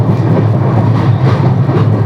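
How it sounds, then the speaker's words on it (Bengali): The Lal Kuan superfast express rumbles steadily along the tracks with a deep, continuous roar and a faint rhythmic clatter, heard from inside an air-conditioned carriage. "ট্রেন কিন্তু এবার খুব ভালোই টানছে"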